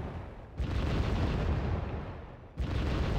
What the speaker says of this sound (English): Now mortars are very good for firing at towns, they're quite accurate so they won't hit your own troops.